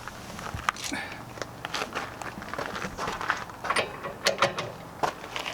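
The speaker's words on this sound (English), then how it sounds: "So I just use the speed wrench. This is a metric socket." Speed wrench with a metric socket loosening the anode rod on an RV water heater, giving repeated ratcheting clicks and metallic turns at close range, irregular bursts with no talking.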